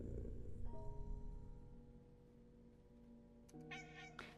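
A demonic cat in an audio drama meows over a low, rumbling ambient bed, with sustained tonal cries stretching across the clip and a sharper, brighter yowl near the end.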